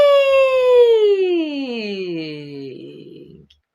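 A single sustained human voice glides smoothly across its range like a siren during a vocal-range exercise, with clear harmonics, loud and close, fading and breaking up near the end; the voice imitates a siren.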